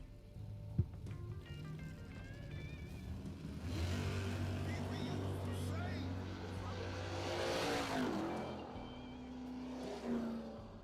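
At a SuperBucks Showdown drag race, cars including the Big Country Camaro launch from the line. The engine roar swells and stays loud across the run, rising and falling as the cars pull away, while an announcer talks over it.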